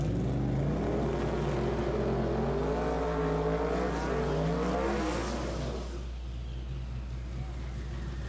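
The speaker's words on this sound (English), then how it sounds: "Camaro absolutely igniting the rear tires" A Camaro at a drag racing grudge event spins its rear tires at launch, engine roaring loudly with rising and falling revs and a harsh tire scrub, heard up close under an announcer's voice before it fades away.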